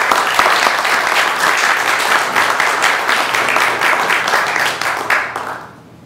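An audience applauds in a courtroom, with dense, sustained clapping that holds steady for several seconds, then thins and fades out at the end.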